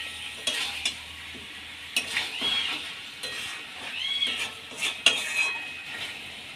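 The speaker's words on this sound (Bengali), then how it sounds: "কিছুক্ষণ এবার নেড়ে নেব" Fried potatoes and meat stirred in a pot for a Bengali meat curry: a spoon scrapes and clinks against the metal at irregular intervals over a soft sizzle, close up with no talking.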